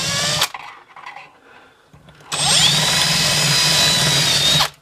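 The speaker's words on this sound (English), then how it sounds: "drilling the head off of it." A power drill boring into the head of a cam screw, a loud high whining spin starting after a short burst and a quiet pause, then running continuously to the end.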